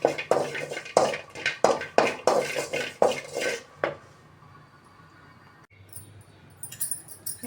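Cashews being roasted in a pan: quick metallic scrapes and clinks of a spoon against the pan in a brisk rhythm, then a quieter lull and a few softer taps near the end.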